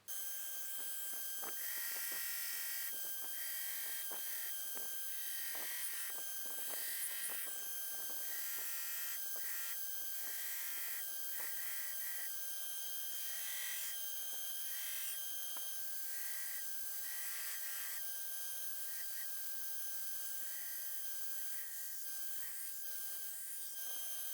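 A forged hunting knife made from a coil spring is ground on a grinder, a continuous high whining hum with intermittent scratchy contacts of steel against the belt, steady and close throughout, no speech.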